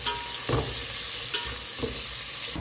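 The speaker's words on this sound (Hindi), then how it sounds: "हांगासर एक 2 मिनटां कांदे हांवें फ्राय करून घेतला" Long-cut onions frying in a pan, a steady close sizzle with a few soft stirring scrapes and no voices.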